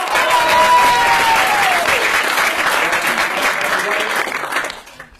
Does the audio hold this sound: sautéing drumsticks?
no